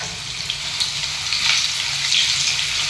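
Chana dal and garlic sizzle in hot oil, a loud, close, steady crackling hiss that swells slightly, with no talking.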